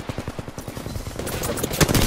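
Rapid automatic gunfire from Apex Legends, a steady rattling burst of repeated shots that grows denser and louder toward the end, with no talking.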